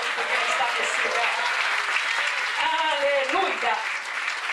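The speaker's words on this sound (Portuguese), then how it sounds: "Aplauda o Senhor nessa noite, porque Ele está nesse lugar" Loud, sustained applause from a church congregation during an evening worship service, dense clapping filling the whole stretch, with some voices and cheering rising over it midway.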